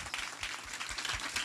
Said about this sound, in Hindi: एक बार जोरदार यीशु के लिए ताली बजाएंगे।